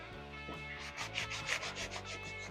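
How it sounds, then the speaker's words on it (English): Sawdust being wiped off a sanded wooden snowman, soft continuous rubbing strokes at a steady rhythm, close and quiet, over faint background music. "I'm going to wipe all this off from the sawdust."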